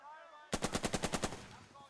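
MP40 submachine gun firing suppressive fire in the Burden of Command video game: a single sharp burst of about ten rapid, evenly spaced shots, loud and close over a faint background hum.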